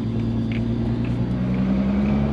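Steady low engine drone and road rumble from a Volkswagen B3 Passat wagon with a turbocharged VR6, cruising at an even pace with no sharp revving, the hum continuous and fairly loud throughout.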